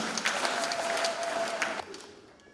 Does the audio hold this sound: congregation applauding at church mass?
yes